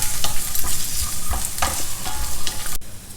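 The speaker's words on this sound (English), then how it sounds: "first add the peanuts, fry it well. Next add this ginger and green chili paste." Peanuts frying in a pan with ginger and green chili paste, loud sizzling broken by repeated scraping stirring strokes, close up.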